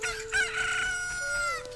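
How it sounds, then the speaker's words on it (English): A rooster crows in The Legend of Zelda: Ocarina of Time, one drawn-out, high-pitched cock-a-doodle-doo heard close and alone over quiet game ambience. "Hey, look, that chicken hatched."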